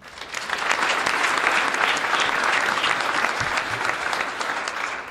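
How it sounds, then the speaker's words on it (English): A panel discussion audience applauds its moderator with sustained, dense clapping that holds steady for several seconds before tapering slightly. "we want to give a round of applause to our moderator"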